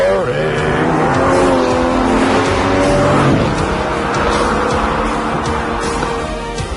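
A powerful performance car with a dual-clutch gearbox accelerates loudly, its engine note climbing through rising revs and then dropping sharply at a quick gear change, close and sustained, with a voice speaking briefly over it.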